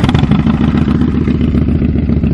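A 2009 Harley-Davidson CVO Fat Bob V-twin idles close by after starting, a loud, lumpy, rapid potato-like thumping with a mechanical clatter that runs steadily throughout.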